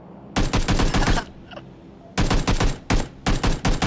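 Bursts of automatic gunfire in PUBG, a battle royale shooter: two loud, rapid volleys with a short gap between them, followed by shorter sharp bursts, all close and punchy.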